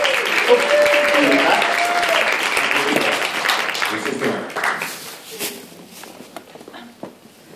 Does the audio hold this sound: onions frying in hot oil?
no